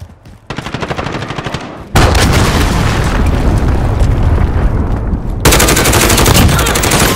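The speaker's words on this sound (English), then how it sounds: "Enemy cruise missile incoming!" A cruise missile strike in a video game brings a rapid crackle of fire followed by loud, sustained booming explosions that fill the sound and come close and heavy.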